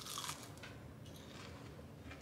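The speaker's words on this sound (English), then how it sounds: "I'm gonna eat the one that's a little bit crispier because I love my bacon super crispy on these" Someone bites into a crispy bacon-wrapped brisket jalapeño popper, a faint close crunch at the start followed by soft chewing.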